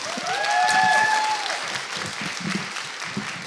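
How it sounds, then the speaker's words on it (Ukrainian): A live stand-up comedy audience breaks into steady applause for the comedian's older sister, a sustained clatter of clapping that swells in the first second and holds through to the end, with no talking over it. "Дайте, їй, будь ласка, оплесків."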